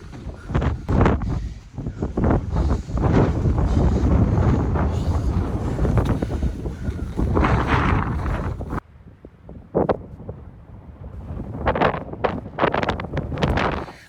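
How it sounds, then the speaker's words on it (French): Strong high-altitude wind in Utah near a rocky pinnacle summit, loud gusty buffeting that blasts continuously, drops off sharply partway through, then returns in shorter bursts. "Il y a un vent de dingue."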